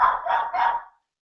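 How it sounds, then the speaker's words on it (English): A dog barks close by, three quick loud barks in a row that stop abruptly, leaving silence. "That's my dog."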